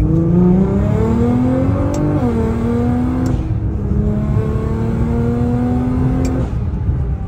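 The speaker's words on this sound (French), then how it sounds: "Donc vous allez le voir quand Ben va commencer à accélérer" A car engine accelerates from close by with a loud, steady drone, its pitch climbing through each gear, then dropping at a shift change before rising again.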